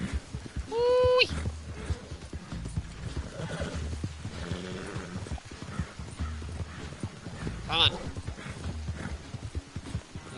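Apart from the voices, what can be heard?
horse galloping hooves in Red Dead Redemption II video game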